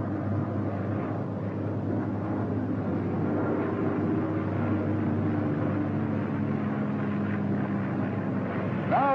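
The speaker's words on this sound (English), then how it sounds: "The F6F has very little tendency to swerve and will fly yourself off at a speed of" A Grumman F6F Hellcat fighter's piston engine roars steadily through a takeoff run, a loud, dense, unbroken drone that holds its level the whole time, with no speech.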